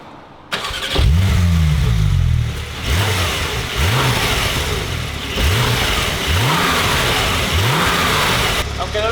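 A car engine starts, then revs repeatedly in short rising bursts, about five or six blips, with a fairly muted stock exhaust note between them.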